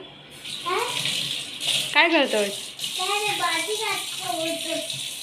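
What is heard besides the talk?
child washing dishes under running tap water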